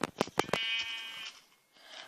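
In a blocky sandbox video game, a few quick clicks and taps are followed by a single sustained, buzzy sheep bleat, then a fainter second bleat trails off near the end.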